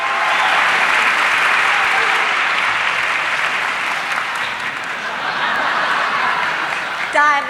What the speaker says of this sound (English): the applause was deafening